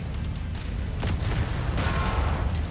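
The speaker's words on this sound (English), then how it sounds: "whenever you get hit by autocannons, it always seems like the world is about to end" Heavy, rumbling impacts of autocannon rounds striking a mech in MechWarrior 5, a continuous low booming barrage with a couple of sharper bursts, loud and close throughout.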